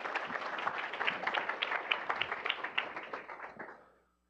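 Audience applause welcoming Dr. Euan Ashley, a researcher on the health benefits of single malt Scotch whisky, to the stage: dense, steady clapping from a crowd that holds for about three and a half seconds before fading out.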